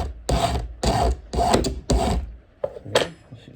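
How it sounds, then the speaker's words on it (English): A Stihl tuning screwdriver is ground to a point in a vintage shed, with four or five close, rough rasping strokes in an uneven rhythm, each separated by short pauses. "Let me take this tuning screwdriver and sharpen it up, actually."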